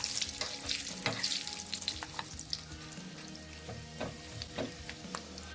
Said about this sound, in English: You have to put the peanuts. Stir a bit. Make sure that the curd chilies are nicely fried.